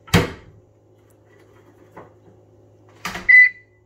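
A few short clunks and clicks, then a bright electronic microwave beep near the end, close and clear in a quiet room.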